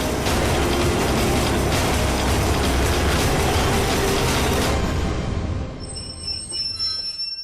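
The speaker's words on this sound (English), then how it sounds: "when suddenly I encounter an oncoming train." An oncoming bamboo train on the Bamboo Railroad in Cambodia clatters and squeals loudly along its rails, a continuous rattling roar close by that fades and thins over the last two seconds.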